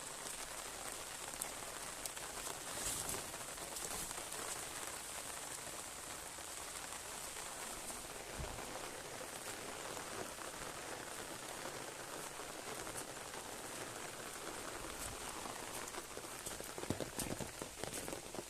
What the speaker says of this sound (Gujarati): વરસાદ આવે છે બહાર જોરદાર